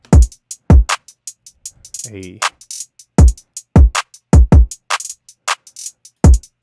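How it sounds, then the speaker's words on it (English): Programmed drum beat in Logic Pro with kick, hi-hat and clap, sharp percussive hits in a loose repeating rhythm, punchy kicks alternating with bright ticks and claps, briefly broken by a spoken interjection. "The kick with the hi-hat and the clap sounds like this."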